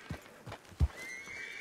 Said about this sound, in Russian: четыре лошади, а такой топот, как будто бы, я не знаю, стадо целое бежит